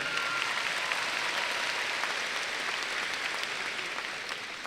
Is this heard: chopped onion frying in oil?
no